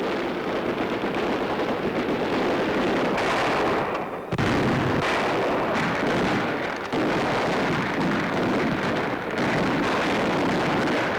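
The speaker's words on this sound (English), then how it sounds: "General Clark watches while his men clean up with gunfire and mortar." Gunfire and mortar fire crackle through a World War II town, heard as a dense, continuous wash of distant bursts and rattling shots with brief dips, from an archival newsreel recording.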